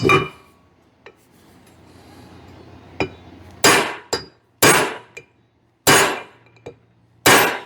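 A hammer strikes a metal punch on a cast-iron part of a 1965 Chevrolet C10 in sharp, ringing blows, some light taps and several hard hits, irregularly spaced and close up.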